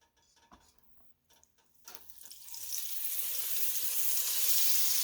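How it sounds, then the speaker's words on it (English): Butter melting into one to two tablespoons of hot canola oil in a pot breaks into a steady, loud sizzle after a few quiet clinks of kitchenware, building up and holding a broad hiss to the end. "I'm going to put in a tablespoon of butter"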